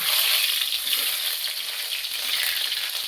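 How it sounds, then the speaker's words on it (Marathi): Finely chopped garlic frying in a pan for pasta as it is stirred slowly, a bright continuous sizzle heard close and fairly loud with light irregular crackles, with no voices. "लसूण टाकला मित्रांनो याला आपण हळूहळू हलवून घेऊया"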